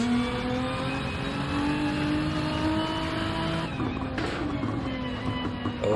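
A race car engine in a racing video game at Fuji, revving hard under acceleration with a steady rising whine, tires faintly squealing, loud and close throughout with a brief shift near the end.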